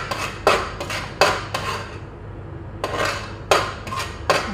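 A spoon stirs fish curry in a pot, striking the sides in a run of loud, clattering knocks with a short pause midway, close and clear with no speech.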